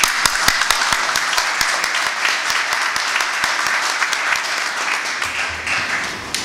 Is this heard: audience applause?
yes